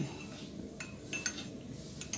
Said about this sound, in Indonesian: Nah, ini untuk yang dicangkir. Baru kita aduk.